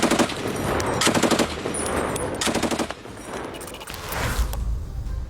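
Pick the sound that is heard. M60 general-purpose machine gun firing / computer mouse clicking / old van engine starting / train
M60 general-purpose machine gun firing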